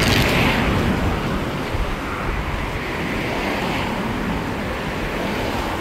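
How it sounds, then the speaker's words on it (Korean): Seawater rushing out through an opened sluice gate on a river barrage by the coast, a loud broad steady roar of flowing water mixed with some wind buffeting the microphone. "지금 물을 흘러보내고 있습니다."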